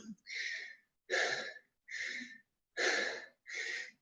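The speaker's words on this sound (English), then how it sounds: "I'm breathing heavy from that." Heavy breathing after a workout exercise: five strong, breathy exhalations in a steady rhythm, each lasting about half a second with short pauses between, close and loud with no talk.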